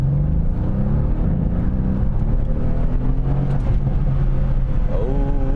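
Mercedes C63S AMG W205 V8 engine pulling at light partial throttle, a loud, deep, continuous rumble heard from inside the car, with engine pitch rising gradually and wavering near the end.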